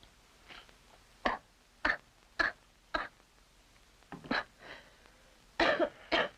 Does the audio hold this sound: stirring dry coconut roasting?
no